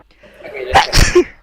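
A single allergy sneeze bursts out loud and close after a quick intake of breath, with brief talk around it.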